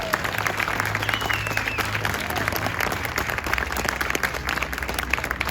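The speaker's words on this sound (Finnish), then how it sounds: "Valtavat aplodit Patrikille, hieno päivä takana." A crowd applauds at the prize ceremony of the Imatra rally, part of the Finnish rally championship, where the rally winner is honoured with sparkling wine. Dense, loud clapping runs steadily throughout.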